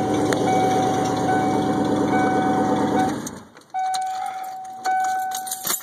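A 1996 Ford Bronco engine idles after a cold start with a steady, loud rumble and whine that cuts out partway, followed by quieter bursts of engine and clatter nearby.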